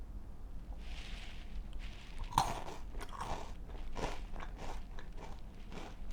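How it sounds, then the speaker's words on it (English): Crunching and chewing of malted chocolate balls, a close, fairly quiet run of crisp bites and mouth noises with one sharper crack partway through, no talking. "I think I'm gonna try one of these chocolate balls next."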